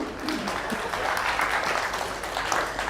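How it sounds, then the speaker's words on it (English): A seminar audience standing in a room claps for themselves after making a choice, a steady, fairly loud wash of many hands with a low hum underneath. "Give yourselves a clap for making a decision"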